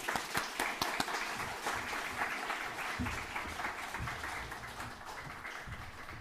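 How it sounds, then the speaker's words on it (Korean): A church congregation at a Sunday worship service claps steadily in warm applause welcoming the preacher, a dense run of many hands heard at moderate distance and lasting several seconds. "우리 박수로 환영해 주셨으면 감사하겠습니다"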